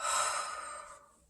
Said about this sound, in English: you can get up, deep breath in.